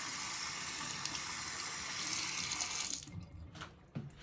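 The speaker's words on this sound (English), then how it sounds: "Wet the blade in warm water." Warm water runs steadily from a tap, a loud hissing stream as a razor blade is wet under it, then the flow breaks up into splashing and dripping as the blade moves through it.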